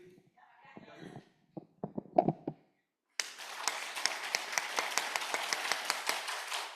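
After a few soft taps and murmurs, a church congregation bursts into steady, rhythmic clapping in unison during prayer at a Sunday service, continuing strongly to the end.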